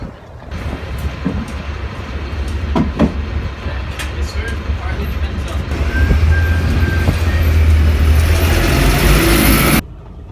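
Riding inside a city bus, a loud continuous low engine rumble with rattling and road noise throughout, swelling louder in the second half before cutting off abruptly.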